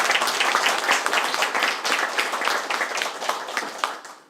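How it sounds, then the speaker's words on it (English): Attendees at a school board of education meeting give a short round of applause, a moderate burst of many hands clapping that tapers off over about four seconds. "So we should clap for that."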